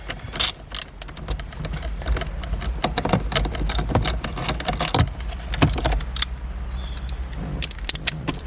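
A ratchet works loose the shifter module bolts inside a Nissan R34, giving close rapid clicking runs with metallic clinks and knocks between them and no talk.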